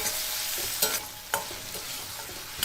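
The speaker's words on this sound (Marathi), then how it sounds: "आता दोन मध्यम आकाराचे टोमॅटो एक मिनिट परतून घेऊया" Two medium tomatoes sautéing in a pan over garlic and grated ginger for sambar, a soft continuous sizzle broken by a few sharp spoon scrapes and taps, close and fairly quiet.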